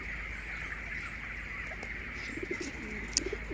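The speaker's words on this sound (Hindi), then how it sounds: "और ये कबूतर रखे हुए हैं।" Pigeons kept on a poultry farm coo softly in the background, their low murmuring calls sounding intermittently over a steady ambient hum.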